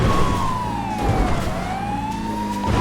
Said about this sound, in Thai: เปิดไซเรนอยู่อ่ะ